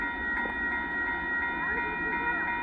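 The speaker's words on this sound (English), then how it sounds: "there goes the Kansas City Southern Metro Intermodal Train after the Amtrak's gone by." Kansas City Southern de Mexico intermodal freight train rolling past at Dittmar Road, a steady continuous rumble of rail wagons at moderate distance with a faint mechanical hum throughout.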